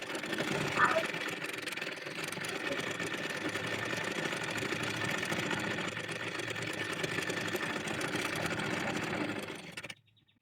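A sewing machine stitching the folded hem of a voile baby frock, running in a continuous close mechanical whir for nearly ten seconds before stopping abruptly.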